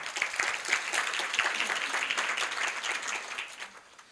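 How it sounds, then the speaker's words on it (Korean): An audience at a Korea University business school event applauds to welcome a game company CEO to the stage, steady sustained clapping from many hands that fades out toward the end. "박수로 맞아주시기 바랍니다"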